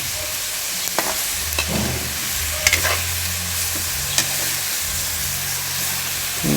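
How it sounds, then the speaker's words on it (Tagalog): Chicken arroz caldo aromatics sautéing in a small amount of oil, with a steady close sizzle and hiss throughout, broken by a few sharp scrapes and clinks as the pan is stirred. "Gisa-gisa lang tayo muna"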